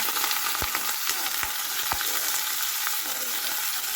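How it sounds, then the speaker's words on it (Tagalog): Pieces of chicken sizzle steadily in hot oil, with a continuous crackling hiss and a few sharp pops and clinks from the pan. "I-prito muna natin dito ang ating chicken."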